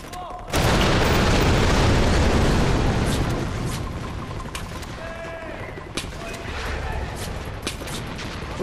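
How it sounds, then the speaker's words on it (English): A large explosion in the video game Far Cry 4 bursts out suddenly and loud, then rolls into a long rumbling, crackling decay, with scattered smaller pops and debris sounds trailing after it. "That's definitely gonna blow up."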